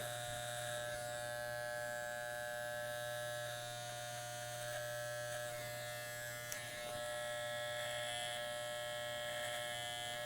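An electric razor shaves a straight neckline during a faded side part haircut, giving a steady, close buzz that runs unbroken throughout with only slight shifts in pitch.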